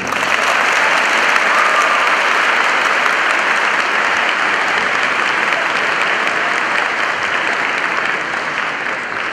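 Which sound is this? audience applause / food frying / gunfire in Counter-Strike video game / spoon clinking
audience applause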